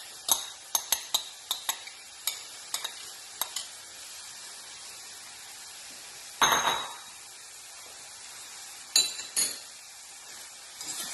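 Onion fries in oil in a skillet while a utensil stirs it, giving a steady sizzle broken by a run of sharp clinks and taps against the pan, then louder scraping bursts later on.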